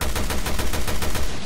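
Rapid automatic gunfire in the survival horror game Resident Evil: Revelations 2, a loud, steady stream of evenly spaced shots filling the whole stretch.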